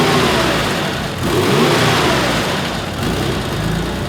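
A Porsche 993 GT2 tribute car's engine runs steadily at a smooth idle, a close, constant low rumble with a slight swell partway through and no talking.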